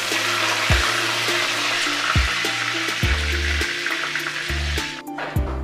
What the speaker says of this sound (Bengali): কড়াতে তেল দিয়ে তেলের মধ্যে আমি গোটা গরম মশলা, লবঙ্গ, দারুচিনি, এলাচ আর দুটো তেজপাতা দিয়ে দিলাম